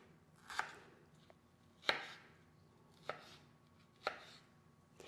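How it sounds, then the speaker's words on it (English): A knife chops through watermelon for a mint fruit salad, landing four sharp, separated strikes on a cutting board at a slow, uneven pace, close and fairly quiet with no talking. "I'm just going to finish chopping these up a little bit more."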